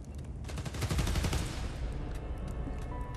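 Rapid bursts of gunfire ring out in Spider-Man: Miles Morales during a train sequence, a dense rattling volley that peaks then fades into lighter scattered shots.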